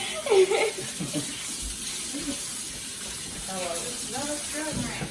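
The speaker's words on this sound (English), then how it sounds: "we are washing our coleslaw" Packaged coleslaw rinsed under running tap water, a soft steady hiss of flowing water close by, with a voice talking over it at the start and near the end.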